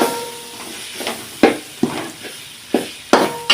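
Roasted ground spices being stirred into a spicy Tamil-style fish curry in a pan, giving several distinct scraping, clattering spoon strokes spaced about half a second apart over a soft steady sizzle.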